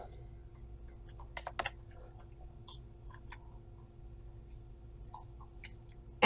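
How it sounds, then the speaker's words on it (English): Someone typing a name on a computer keyboard, with quiet, irregular key clicks in short bursts against a low background hum, no talk. "But if I type, for instance"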